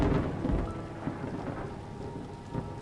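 Steady heavy rain with rolling thunder from a nighttime storm in the video game The Séance of Blake Manor, a continuous dense wash at moderate level with no voices.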